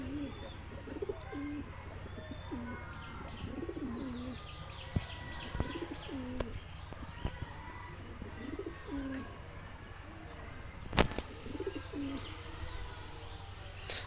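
Racing pigeons in a loft coo softly in repeated low rolling phrases, with faint chirps and occasional wing flutters and knocks, and no talking.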